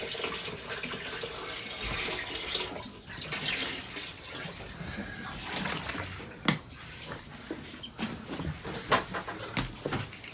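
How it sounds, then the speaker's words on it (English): Water pours and trickles steadily into a sunken boat, a continuous splashing rush close by with a few sharper knocks and clunks breaking through toward the end. "There's still water coming in here."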